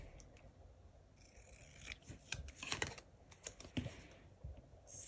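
Scissors cutting off the bottom of a sticker sheet, quiet close snips and paper rustles in an irregular run over a few seconds, with no talking.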